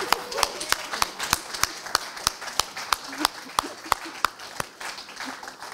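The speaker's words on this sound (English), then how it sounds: "Let's give the man some applause." Small audience applause at a talk on money and politics, steady scattered handclaps across the whole stretch, fairly close and moderately loud, with faint voices mixed in.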